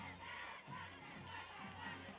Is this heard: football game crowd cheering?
yes